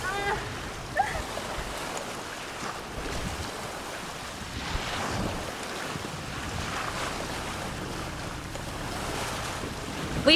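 Wind and waves wash steadily around a sailboat under way with a head sail out, a continuous broadband rush of breeze and water with occasional gusts and splashes, fairly close and without talk.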